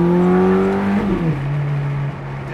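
A car drives along a road and accelerates, its engine drone rising and then dropping as it shifts, steady and close with no talking.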